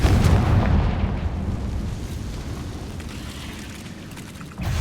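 Hogwarts Legacy's Confringo blasting spell erupts in a heavy, booming blast that rolls on as a long, slowly fading rumble, ending with a fresh burst; nobody speaks.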